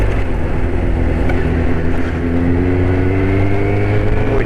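A motorcycle engine, a Yamaha Thundercat or Kawasaki ZX6-R, runs loud and close as the rider shifts up through the gears, revs rising in steady harmonic sweeps over a rough, continuous drone with no talk.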